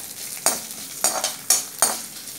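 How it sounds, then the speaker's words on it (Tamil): Pure asafoetida being lightly fried in a pan, stirred in four quick scraping strokes over a soft background sizzle, close and distinct. "மைதா கலக்காத பெருங்காயம், இதை நம்ம லைட்டாக வறுக்க போகிறோம்."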